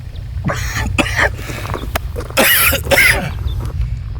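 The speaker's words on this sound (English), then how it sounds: "like I was saying before I was interrupted by my cough" Several loud, harsh coughs close to the mic outdoors near the Vance Creek Bridge, in bursts around a steady low rumble, with a bigger double cough near the end.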